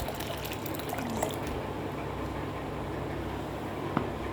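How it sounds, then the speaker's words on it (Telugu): Water is poured steadily over green urad dal (split black gram with skins) in a bowl, making a faint continuous trickling, filling sound with no voices. "వాటర్ ఉన్నంత మట్టుకే మనం అందులోకి పోసుకుంటూ ఉండాలి"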